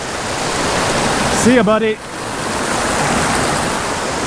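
A tiny brook trout creek flows in a steady, loud broadband rush of running water, with a man's brief spoken words cutting in partway through.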